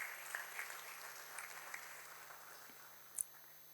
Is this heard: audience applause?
yes